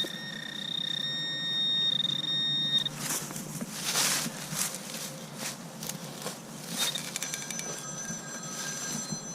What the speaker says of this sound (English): It's my phone, hold on a minute.